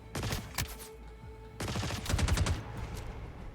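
Gunfire in the game Star Citizen during a chaotic firefight: rapid bursts of automatic shots in two main volleys, with a humming ambient tone between them, moderately loud and close.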